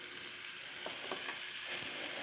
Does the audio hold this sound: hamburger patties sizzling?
yes